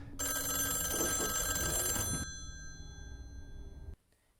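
A telephone bell rings loudly in one sustained burst, then a quieter ringing tone follows before it stops.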